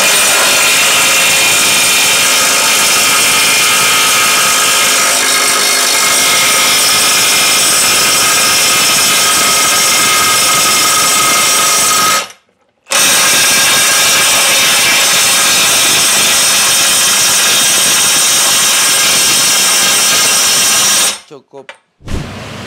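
A DCK KDPB488 20V cordless brushless impact wrench, rated 488 Nm, spins with a socket adapter, giving a loud, continuous buzzing whine that runs unbroken for long stretches with two brief stops.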